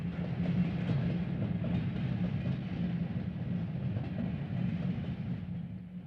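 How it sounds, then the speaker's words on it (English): A Union Pacific freight train at Helendale, pulled by EMD double diesels and a GE U50C, rolls past with a steady low rumble and a faint clatter of rail cars, sustained and moderately distant. "we catch two EMD double diesels teaming up with a GE U50C"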